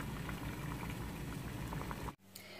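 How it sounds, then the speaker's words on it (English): Water boils steadily in a pot on a stove, a dense continuous bubbling and rumbling that cuts off abruptly near the end, leaving only a quiet hum. "I'm just going to turn this down a little bit so that it keeps boiling, but not too vigorously"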